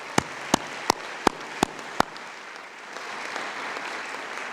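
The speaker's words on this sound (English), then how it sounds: "and we applaud you" Audience applause for graduates at an EMBA graduation ceremony: six sharp, evenly spaced claps ring out first, then give way to a softer, diffuse wash of crowd noise.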